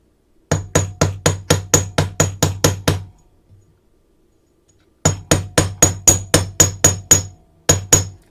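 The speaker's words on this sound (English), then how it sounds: "So we'll hammer that just a little tiny bit." Metal pieces are struck with a hammer to add texture: a quick, regular run of about ten sharp, ringing blows, a short pause, then another even burst of strikes and two final taps, close and loud.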